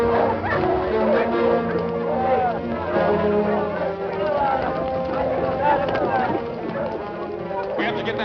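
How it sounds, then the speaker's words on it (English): Wild dogs bark and yip in a steady, busy chorus, mixed with whimpers and a faint trotting clatter, under dense dramatic background sound from a 1950s film serial where they have scented deer. "What's that, wolves? Mostly wild dogs."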